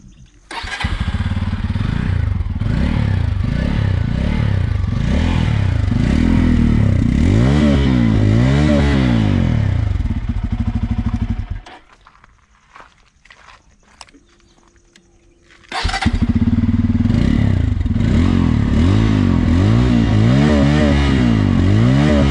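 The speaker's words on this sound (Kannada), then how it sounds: "ಓಡಿಸೋಕ್ಕೂ ಮುಂಚೆ ಎಕ್ಸಾಸ್ಟ್ ನೋಟ್ ಹೇಗಿದೆ ಅಂತ ಕೇಳೋಣ" A Bajaj Pulsar N250 motorcycle idles and revs loudly nearby, its exhaust note rising and falling in repeated throttle blips, then cuts out to near silence before restarting and revving again.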